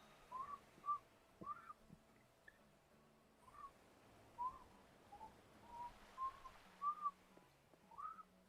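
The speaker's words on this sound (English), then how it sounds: "That's the best I can do for whistling." A person whistles a string of short, soft two-note chirps with uneven gaps, quiet and close, against faint low background game sound.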